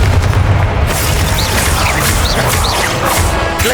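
Confringo fire spell explosions from Hogwarts Legacy combat, a dense run of loud booming blasts and crashes with no gaps between them.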